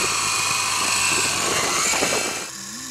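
A toy remote-controlled helicopter whirs with a steady high-pitched rotor and motor buzz, loud and close, then fading slightly near the end.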